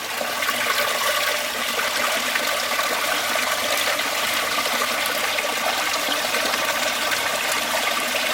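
Water flows steadily into a koi pond from the return outlets and a waterfall, making a continuous, even rush and splash that stays close and fairly loud from start to finish with no voices.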